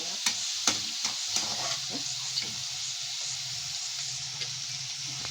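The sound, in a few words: chicken frying in a pan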